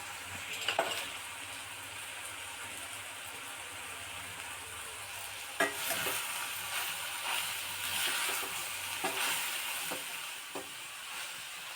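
Drumstick curry with salt and turmeric sizzles steadily in the pan, and stirring adds scattered scrapes and clacks. The sounds are close and there is no speech.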